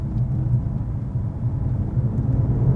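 A new Mercedes-AMG C63 pulls away hard from a rolling start in comfort mode with the gearbox in auto, a steady, loud low engine drone and road rumble carrying throughout without a clear gear change.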